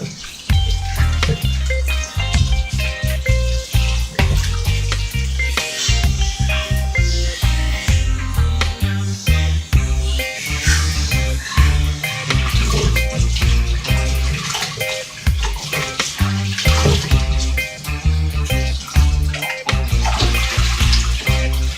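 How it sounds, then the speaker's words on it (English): Tap water running steadily while a carrot is rinsed beneath it: a loud, continuous rushing splash close by, lasting throughout with no pause and no talk. "So just gonna rinse this off."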